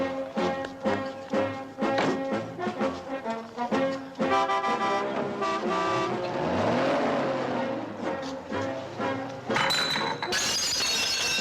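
A car in a 1963 British comedy drives off, its engine revving and droning loudly and continuously with no talk, then ending in a higher-pitched whine.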